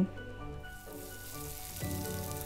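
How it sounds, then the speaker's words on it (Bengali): Boiled eggs sizzle and fry in a hot pan for egg korma, a steady close crackle with brief stirring scrapes and no talking. "ডিমগুলো দিয়ে আমি একটু এটাকে নেড়ে চেড়ে এক মিনিটের মতো রান্না করব"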